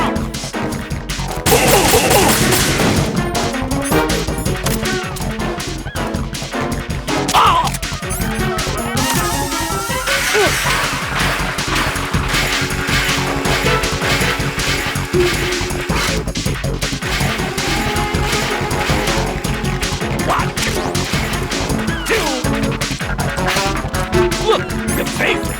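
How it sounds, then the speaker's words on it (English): Bombs explode in Metal Gear Solid 2, loud crashing blasts and smashes piling up amid a chaotic, continuous din of game action lasting the whole stretch. "More bombs!"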